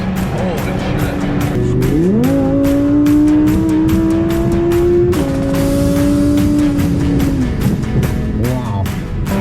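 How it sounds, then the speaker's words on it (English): Audi R8 V10 RWS engine revving hard to high RPM, a loud rising wail that climbs and holds before falling away, with people talking over it. "that thing revs out like crazy"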